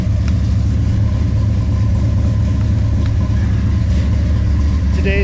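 A 535-cubic-inch big block Ford V8 runs steadily, a loud, constant low droning hum close by. A voice is briefly heard toward the end.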